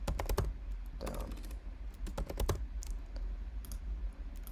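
Computer mouse clicks on web page buttons, several sharp, close clicks in irregular bursts, some in quick pairs, over a quiet room.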